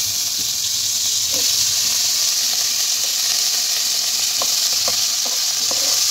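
Chopped onion sizzles loudly in hot oil with cinnamon, cloves and cardamom for butter chicken, a dense continuous hiss with a few light taps and stirring scrapes near the end.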